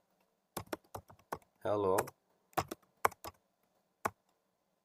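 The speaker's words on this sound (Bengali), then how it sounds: "এখানে আমি কিছু একটা লিখবো" Scattered keystrokes on a computer keyboard, sharp isolated clicks spaced out over several seconds, with a brief spoken word cutting in between them.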